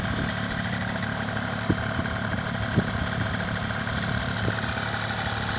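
A powered paraglider paramotor engine idles at Salton City, a smooth, quiet, steady hum with a few faint knocks, heard alone.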